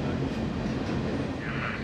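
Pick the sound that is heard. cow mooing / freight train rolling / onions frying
freight train rolling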